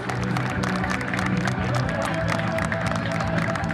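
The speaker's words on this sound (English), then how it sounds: "put your hands together. Let's applaud our teachers" A crowd claps and cheers for teachers at a school inter-house athletic meet, dense continuous applause with a voice talking over it.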